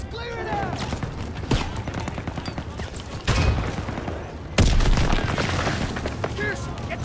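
Gunfire rattles through a World War II battle in the Call of Duty game, with rapid rifle and machine-gun bursts and heavy booms punctuating the din while shouted voices carry over the fighting.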